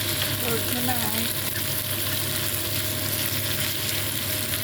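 Shrimp frying in a pan for a home-cooked dinner dish, with a steady close sizzle and crackle that runs without a break through the whole stretch.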